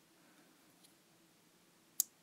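A turn kill key on a Korbanth Graflex 2.0 custom Star Wars lightsaber gives a single crisp, close click after a faint earlier tick, against quiet background hiss.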